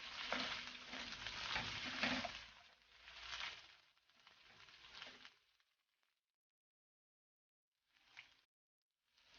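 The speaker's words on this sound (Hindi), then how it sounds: "अब इसको थोड़ा सा 1 मिनट तक फ्राई कर लें अच्छे से, ताकि अदरक लहसुन के पेस्ट में गोश्त की जो अगर स्मेल है तो वो बिल्कुल ख़त्म हो जाए" Mutton pieces frying with ginger garlic paste in a pan, sizzling and being stirred in scraping bursts for several seconds, then going silent apart from one brief stir later.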